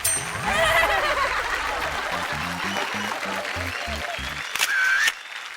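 Audience applause at a televised Marathi women's game show, a steady patter of clapping filling the hall for several seconds under music and background voices, ending abruptly.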